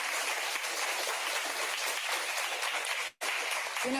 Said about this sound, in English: Give yourselves one more round of applause, please.